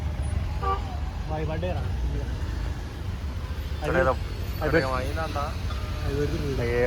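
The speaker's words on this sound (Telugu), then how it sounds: "ఫుల్ ట్రాఫిక్ ఉంది" Heavy road traffic around the Koheda hill viewpoint during the Sankranti festival: a steady, dense rumble fills the background while voices or horn-like tones rise over it now and then.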